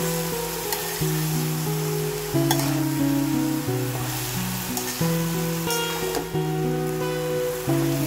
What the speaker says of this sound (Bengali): অনবরত এইভাবে নাড়তে থাকবো